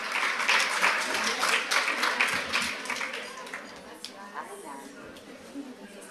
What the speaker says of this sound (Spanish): Le damos un fuerte aplauso a Alejandra Pizarro